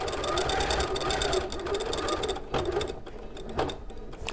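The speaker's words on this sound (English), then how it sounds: "So we're just basting it on so we can use it as one fabric" A sewing machine basting two layers of fabric together so they act as one, running in a steady continuous whir with brief pauses, with people talking over it in a live sewing session.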